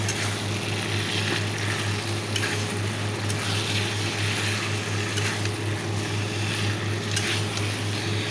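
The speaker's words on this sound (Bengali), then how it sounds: "তো মাংসটা কষিয়ে নিচ্ছি" Meat sautés in a pan in a home kitchen, a continuous broad sizzle with a low steady hum beneath, close and unbroken with no one talking.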